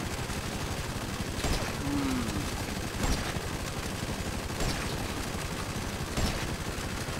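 Assault rifle fire in Grand Theft Auto V rattles in rapid, continuous bursts under dense background noise, with periodic louder cracks standing out across the stretch.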